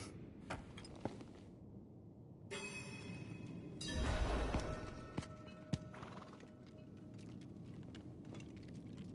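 Horse hooves clop rhythmically alongside a whinny in a PS4 game, with game-like ambient rumble and scattered sharp clicks in the background.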